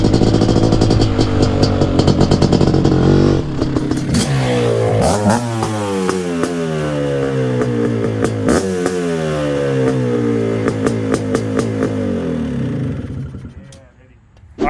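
A QuadZilla quad's engine revs hard while being ridden, a loud raspy drone climbing and falling through several throttle surges and gear changes before easing off near the end, with a voice heard over it.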